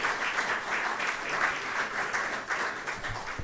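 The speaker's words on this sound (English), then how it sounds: "I think that fantastic talk deserves another round of applause." Warm, sustained audience applause following a keynote talk at a research conference, dense and even clapping from a full room, moderately loud and without speech over it.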